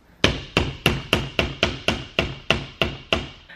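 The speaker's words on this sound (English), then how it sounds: "I'm gonna keep hammering" A very small hammer taps nails into a wooden bookshelf, giving around eleven crisp, metallic-edged blows at a quick steady pace, close-miked and alone without talk.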